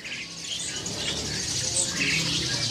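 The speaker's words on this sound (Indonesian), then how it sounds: "sekarang kita akan lihat nih pemirsa ya, stok daripada burung kacer" Caged magpie robins at a bird market stall chirp and call over a steady hum of shop ambience, several overlapping bright tweets and short squawks at close range.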